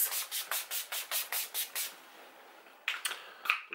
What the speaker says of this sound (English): I'm just going to use some of the Urban Decay All Nighter Setting Spray to make sure that this is held in